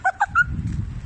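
A dog gives three quick, close barks in a row, short and sharp, followed by a low background rumble.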